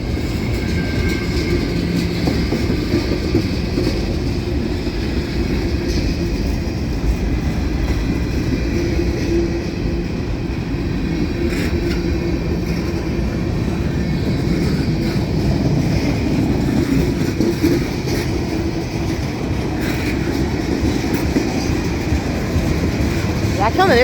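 Freight train of a Union Pacific manifest, a mix of loaded and empty cars carrying coils, rolls past on a rainy day in a steady, continuous loud rumble and rattle that holds the full length without a break.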